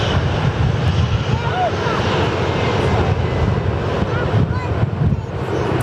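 An Airbus A321neo airliner takes off at Sydney Airport, its engines making a loud, steady broadband roar that fills the whole clip with some wind rumble.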